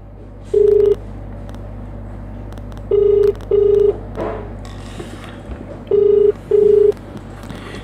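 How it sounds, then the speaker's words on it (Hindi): A phone line dials a helpline number, with loud steady tone bursts in two pairs and a single tone, separated by quiet line hiss and faint clicks. "अभी हम आपके सामने इस हेल्पलाइन नंबर पर फ़ोन करेंगे"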